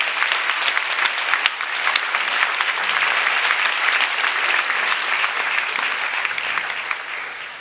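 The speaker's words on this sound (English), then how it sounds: "Let's give them a round of applause" Sustained applause from an audience thanking event volunteers, a dense, steady wash of many hands clapping throughout, fairly loud with no speech over it.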